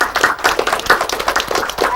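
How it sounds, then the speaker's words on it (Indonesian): University students in a forum audience applauding, a close burst of rapid, dense clapping from a crowd, lasting a couple of seconds without any speech. "Boleh minta tepuk tangannya?"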